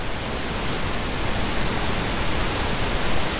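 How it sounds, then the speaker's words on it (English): A waterfall in a modded video game roars at night, a loud, steady wash of white-noise-like rushing water that fills the whole moment with no voices over it. "and I hear the waterfall."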